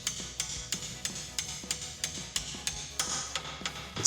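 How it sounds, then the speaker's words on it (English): Light metallic taps from a hammer face seating brake pad hardware on a 2015-2023 Ford Mustang, in a steady rhythm of about three per second, close by and moderately loud. "use the face of the hammer to lightly tap it in"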